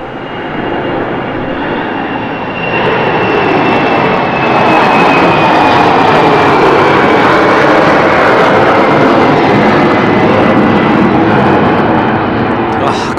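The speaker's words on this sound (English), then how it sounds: "So outbound with the 700th Embraer." An Embraer jet departs London City Airport with a loud, sustained engine roar that swells and holds steady throughout, a thin whine riding on top.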